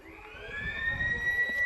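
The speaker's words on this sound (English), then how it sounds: "It's that very peculiar sounding siren." A quarter-time siren sounds at an Australian rules football match, a sustained, peculiar wavering high tone heard from a distance over a low crowd and field murmur.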